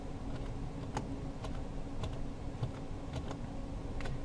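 Computer keyboard keys pressed one at a time at an unhurried, fairly regular pace while stepping through a text-based Ubuntu server setup menu, each crisp click close and distinct over a steady low background hum.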